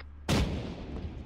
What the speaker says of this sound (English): Gunner, fire again.